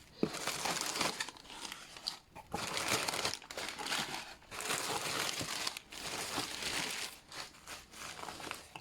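Packaging from an ant colony delivery is unwrapped, giving close, continuous crinkling and crumpling in bursts with short pauses between.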